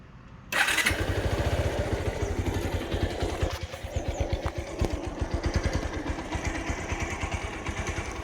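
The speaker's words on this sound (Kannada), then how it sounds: "ಇದು ಇಂಜಿನ್ ಸೌಂಡ್ ಕೇಳಿಸ್ತೀನಿ." A Bajaj Pulsar 150 DTSi motorcycle starts abruptly and settles into a steady, close idle with a rapid, even thumping exhaust pulse.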